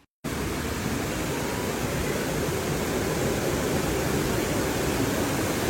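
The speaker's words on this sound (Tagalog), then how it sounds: "halos ang maririnig mo sa paligid ay ang agos ng tubig sa dadaanan mo" Continuous rushing water of a flowing stream, a dense steady broadband roar with no voices.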